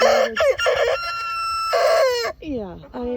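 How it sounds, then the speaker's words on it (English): A rooster crows loudly up close, a long drawn-out call followed by a shorter falling crow. "And of all days, today he starts crowing."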